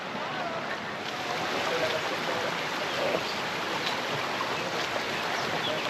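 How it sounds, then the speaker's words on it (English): Water flowing in a stream or small waterfall in the Anapo valley in Sicily, a steady, broad rushing hiss heard from nearby, continuous with little change. "we are hearing like water, like there is waterfall"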